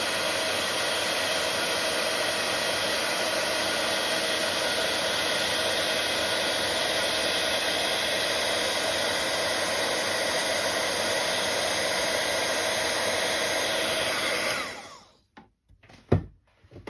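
Steady, loud blowing roar of a heat embossing gun melting white embossing powder, continuous and close for about fifteen seconds before cutting off, followed by a couple of soft knocks.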